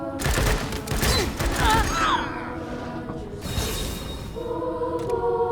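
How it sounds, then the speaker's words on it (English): A turret gun in Wasteland 3 fires in a loud burst of rapid shots that fades out, followed by quieter mechanical hums and game ambience. "Oh, another turret gun."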